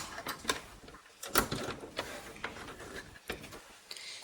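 A home sewing machine fitted with a standard presser foot stitches along a zipper, soft irregular mechanical ticks and whirring bursts close by, quiet overall with short pauses between runs.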